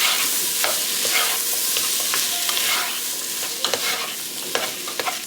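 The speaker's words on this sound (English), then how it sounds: "So now I'm gonna add in my zucchini and my celery, along with the tomato. And I'm just gonna mix this all together." Zucchini, celery and tomato are stirred in a pot for a vegetable tortellini soup, with a loud, constant sizzle and a spoon scraping and clinking the pot in irregular strokes, up close with no voices.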